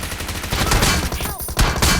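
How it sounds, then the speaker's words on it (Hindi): Rapid gunfire in the mobile shooter BGMI, dense and loud throughout, with bursts packed closely over a busy game soundscape and no talk. "मैं यहाँ पर फायर करना स्टार्ट करता था"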